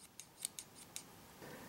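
Small scissors on a multitool snipping about five times in a quick, irregular series of crisp, faint clicks, close by and alone.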